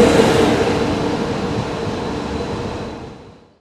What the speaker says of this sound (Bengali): ডুয়াল ইঞ্জিনে ঢুকছে